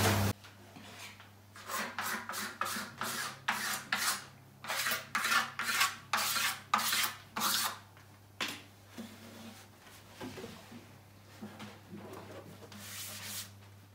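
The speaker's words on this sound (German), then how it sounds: "Es fehlen nur noch quasi hier den Keil rein zu fräsen, hinten bei den Löchern." A router cuts a wedge slot near the holes at the back of a Lakewood acoustic guitar body, making a series of loud, rhythmic bursts of rasping cutting that fade into quieter, irregular scraping toward the end, with a steady low hum underneath.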